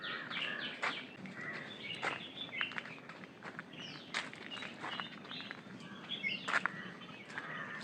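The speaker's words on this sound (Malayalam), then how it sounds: "കിളി ശബ്ദം മാത്രം." Birds singing in a small forest grove beside a stream at Madayipara, Kannur: repeated bright chirps and short whistled calls at moderate distance over a soft ambient hush, with faint rustling footsteps.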